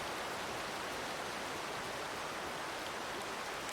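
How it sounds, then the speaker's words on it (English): Steady broadband rush of a waterfall in the forest game Among Trees, a constant loud wash of falling water with no breaks, running unbroken throughout. "That's a pretty waterfall"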